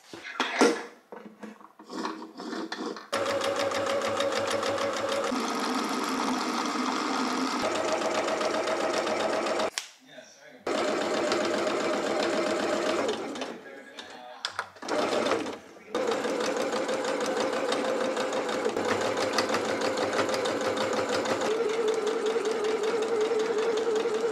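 Sewing machine stitching pleats on a dress sleeve, a loud steady mechanical whirr that runs in long bursts with short stops and restarts, starting and stopping several times.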